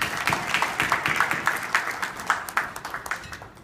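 An audience claps steadily through an iftar dinner at the Millennium Hotel in Abu Dhabi, a dense run of overlapping handclaps at moderate loudness with no voices over it.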